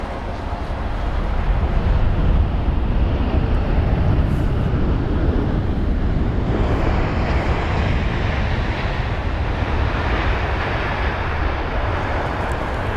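A British Airways Boeing 777-300ER at London Heathrow produces a loud, sustained broadband jet engine roar that swells and holds for many seconds and then slowly eases, heard from outside.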